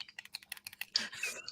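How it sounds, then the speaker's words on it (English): A computer mouse clicks rapidly while someone scrolls through a live chat, a quick quiet run of about ten crisp clicks followed by a brief burst of softer rustling, with no voices. "What that is that you can hear is me clicking on your comments and scrolling through the chat."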